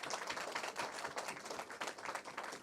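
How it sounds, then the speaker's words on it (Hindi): An audience at a Hindi poetry gathering claps, a dense patter of many hands heard at a distance and fairly faint, steady for a few seconds without talk. "एक बार जोरदार तालियां बजाइए।"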